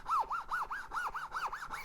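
A hand rubs back and forth across the textured carbon fiber face of a Gearbox Pro pickleball paddle, a close, rhythmic rasping of about eight quick strokes like a zipper.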